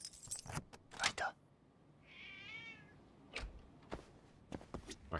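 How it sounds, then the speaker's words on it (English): Cats meow in a rising, wavering call during a pause in a game's busy sound, with sharp clicks and jangling noises before and after it. "My cats are losing their shit."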